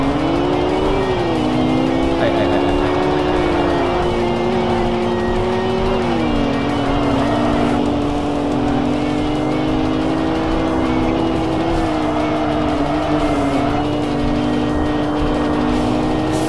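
Suzuki Wagon R fitted with an L6 engine, racing in the Shutoko Battle 01 video game. A loud, continuous engine drone rises and falls with shifts and revving throughout.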